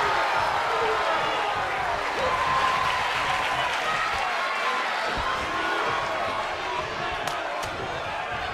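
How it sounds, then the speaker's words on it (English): A virtual wrestling arena crowd in WWE 2K22 roars in a constant wall of cheering and applause, with commentators talking over it and a few thuds from the ring. "The suspense this crowd is feeling is palpable."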